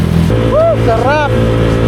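A Honda Click 125i motor scooter rides along at night with a steady close engine drone and road rumble, while a voice sings or exclaims over it in a rising, wavering tone.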